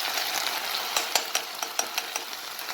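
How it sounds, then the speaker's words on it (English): Meat sauce with tomato paste fries in a pan, giving a soft steady sizzle broken by several sharp scraping clicks of a utensil stirring the mixture. "you just want to fry that a little bit, just to get rid of any sourness from the tomato paste"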